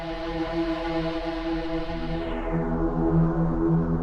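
Dark techno synth tone through Noise Engineering Ruina distortion with Doom adding an octave-down layer: a sustained, buzzing harmonic drone whose bright top end darkens partway through, playing alone without talk.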